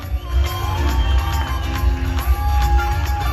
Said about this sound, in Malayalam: ഒരു ഗംഭീര കൈയടി